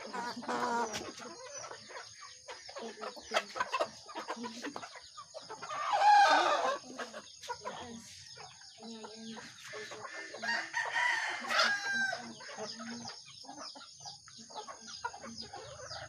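Rhode Island Red crossbreed chickens cluck steadily on a farm while a rooster crows loudly twice, with brief bursts of crowing standing out over the ongoing flock chatter.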